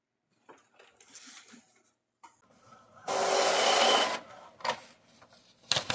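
An Epson L8050 inkjet printer running a legal-size print job: mechanical whirring and rasping bursts of feed and printhead movement, one sustained loud pass in the middle, close and without talk.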